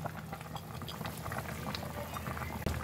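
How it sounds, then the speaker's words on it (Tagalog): Chicken tinola soup with bottle gourd boiling in a pot, a steady soft bubbling simmer with a small clink near the end. "Hintayin natin kumulo, saka natin ilalagay yung dahon ng sili."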